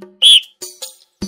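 A short, sharp, high-pitched whistle blast rings out loudly, followed by a few brief fainter sounds.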